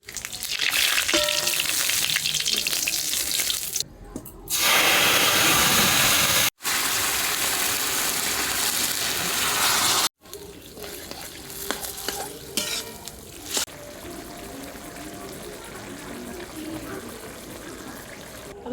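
Dried chillies and radhuni crackle and sizzle loudly in hot oil for a tempering, with continuous frying hiss and stirring scrapes and a few abrupt breaks in the sound.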